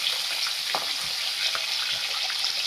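Onion and garlic sauté in a pan of hot oil already holding fenugreek and mustard seeds for a herbal kuzhambu, with a steady close sizzle and a few soft stirring scrapes.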